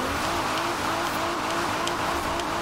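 A Nissan GT-R drifting in the racing game Forza Horizon 4, its engine holding a steady high drone with faint tire squeal on top, close and continuous throughout.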